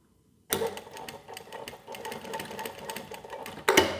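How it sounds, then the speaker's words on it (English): An industrial walking foot sewing machine, model 1903SX, stitches steadily at close range with a dense, rapid mechanical chatter that runs for about three seconds, then swells louder near the end; no one speaks. "So as soon as you start sewing, the needle will come back down again"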